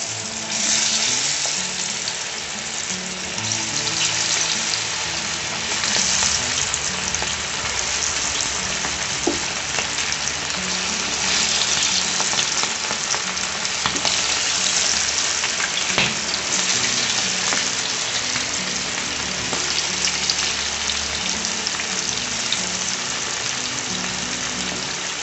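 Chicken pieces deep-fry in hot oil with a loud, dense, continuous crackling sizzle that holds steady throughout.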